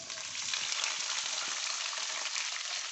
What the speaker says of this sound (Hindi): अब इसी ऑयल में हम जो है ना ये गोभी डालेंगे